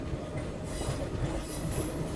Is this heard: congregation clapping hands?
no